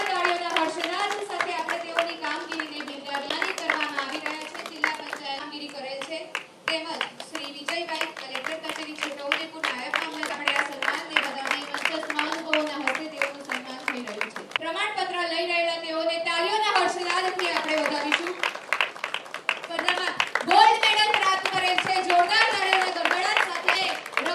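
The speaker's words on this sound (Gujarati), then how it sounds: "તાળીઓને ગણીને બતાવીએ" A group claps hands rhythmically at a school's Independence Day celebration in Chhota Udepur. The claps are rapid and steady throughout, under loud children's voices chanting or singing along.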